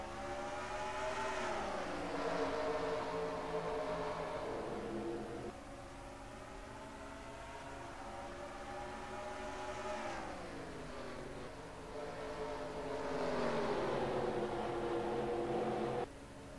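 Stock cars roar off at the green flag at North Wilkesboro Speedway, a dense pack of engines droning loud and steady with rising and falling pitch as cars pass, continuous for the whole stretch.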